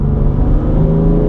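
BMW M2 Competition engine revving hard under acceleration from inside the car, a loud steady turbocharged drone with no talk.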